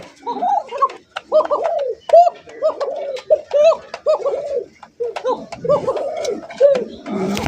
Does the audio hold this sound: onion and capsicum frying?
no